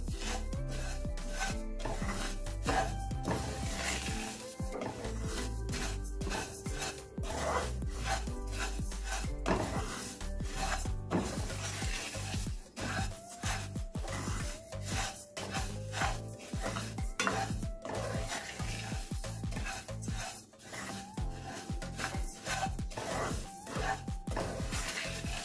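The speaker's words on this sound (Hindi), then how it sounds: "अब हम सौंफ को भूनेंगे। स्लो फ्लेम रखनी है। चमचा मसल से चलाते रहना है।" Fennel seeds roasting in a pan over a slow flame, stirred steadily with a spoon, give a continuous close-up scraping and rattling of seeds and metal, with rhythmic rubbing strokes and no talking.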